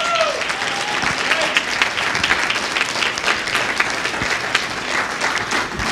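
A church-event audience breaks into loud, sustained applause, a dense continuous roar of clapping held at even strength from start to finish, close and full.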